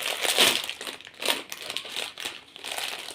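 Crinkling and tearing of a plastic Knorr noodle seasoning packet being opened close up, several bursts of rustling over about three seconds with no voices.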